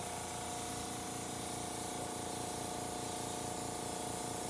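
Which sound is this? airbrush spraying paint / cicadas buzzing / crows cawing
airbrush spraying paint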